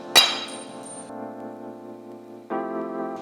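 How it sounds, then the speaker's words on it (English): A hammer strikes the studs on a Porsche Cayenne 955/957 strut during a lift kit install: one sharp metallic clang up front, followed by a long ringing tone that fades, then a second struck ring near the end. "Just take a hammer and..."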